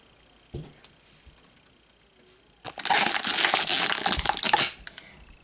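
Plastic blind-bag packaging of small toy figures is torn and crinkled open. A few faint rustles come first, then a loud burst of crackling plastic lasting about two seconds, close to the microphone, with no talking.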